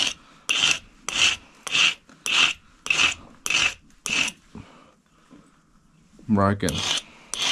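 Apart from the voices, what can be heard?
sharpening a small steel flint-knapping flaker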